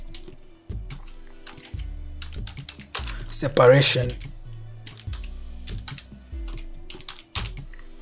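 Quick clicking keystrokes on a computer keyboard while typing a layer group name in photo-editing software, irregular taps throughout with a brief burst of speech in the middle.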